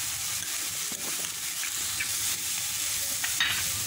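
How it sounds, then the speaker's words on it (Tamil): Ginger garlic paste sautéing with shredded fish in a hot pan, a steady close hiss of frying broken by light scrapes and taps of a spoon stirring, no voices. "அடுத்ததான் இஞ்சி பூண்டு பேஸ்ட் இருக்குல்ல அதுவும் ஆட் பண்ணிக்கலாம்."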